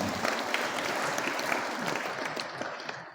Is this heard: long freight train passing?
no